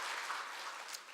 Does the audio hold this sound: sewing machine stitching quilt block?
no